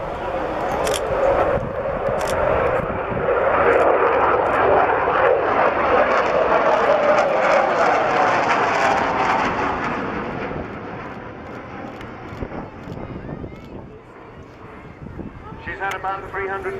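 Four-engine aircraft flying past at the Clacton airshow, a loud broad engine roar that swells and holds for many seconds before easing, with people talking excitedly over it.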